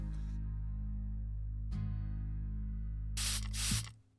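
Short hissing bursts from a hydrating spray, two quick close pumps near the end over a steady low electrical hum, with a faint hiss earlier.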